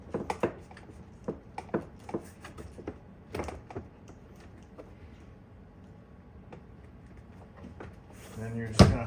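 Plastic door panel pins snapping into a 2023 Chevy Silverado door during panel reinstallation, a series of sharp close clicks and knocks, irregular, with a louder thud near the end.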